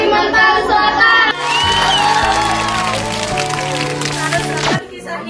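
Students in a Banjarbaru junior high school classroom break into applause and cheering, a loud crowd of young voices clapping and shouting together over music-like tones, fading out near the end.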